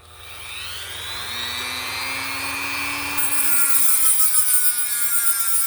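A power cutting tool, likely a Dremel, slices through a custom shock absorber part with a rising, sustained high whine and grinding rasp, loud and continuous with no talking.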